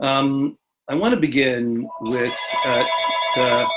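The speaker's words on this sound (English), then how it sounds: "excuse the phone call" A telephone rings partway through a talk on a Passover theme, its steady ringtone tone sustained beneath continuing speech for several seconds.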